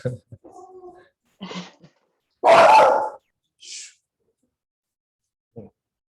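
A dog barks outside, one loud bark standing out among quieter yelps and short barks, with a person talking faintly underneath.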